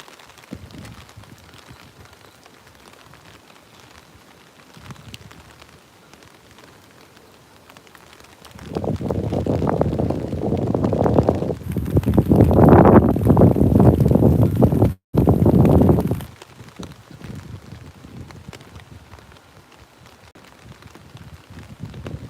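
Midnight rain falls over cherry blossom trees in Tokyo. A low background hiss swells into a loud, steady rush for about eight seconds, breaks off briefly, then fades back to a quiet patter.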